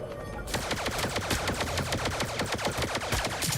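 Rapid bursts of blaster gunfire from a video game rattle out in a dense, steady rhythm for several seconds, loud and continuous with no talking.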